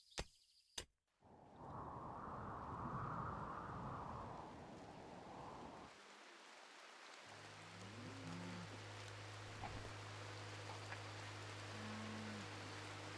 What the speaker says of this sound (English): it's pissing down with rain